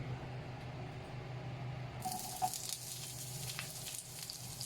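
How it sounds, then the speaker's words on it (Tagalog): Onions and garlic sautéing in a pan, a quiet sizzle that turns into a brighter, stronger hiss partway through, with no talk. "Next natin igisa yung ating mga sibuyas at bawang."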